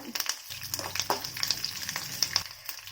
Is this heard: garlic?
yes